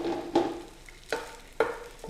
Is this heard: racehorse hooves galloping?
no